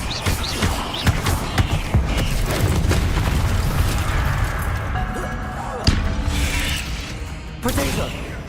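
Hogwarts Legacy spellcasting combat with the Depulso force-push spell: dense, continuous rumbling impacts and thuds with sharp bursts near six and seven and a half seconds, under a busy layered game mix with some voices.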